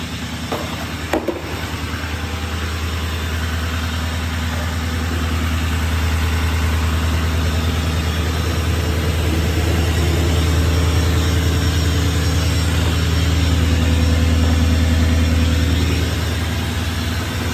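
A 2018 L5P Duramax diesel truck engine idles with its exhaust deleted, running through a 3.5-inch downpipe and 5-inch exhaust, giving a steady, loud, low rumble that swells slightly partway through with no one talking.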